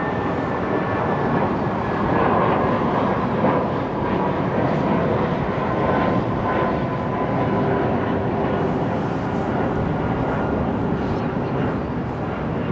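A jet airliner's engines roar steadily at London Heathrow Airport, a broad continuous rumble heard from a distance, with no talking over it.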